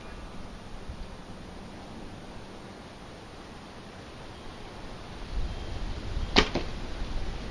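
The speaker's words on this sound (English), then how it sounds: "we'll shoot the yellows with the Kodiak." Quiet outdoor hiss, then a single sharp impact near the end as an arrow from a Kodiak bow strikes a target block, followed by faint rustling.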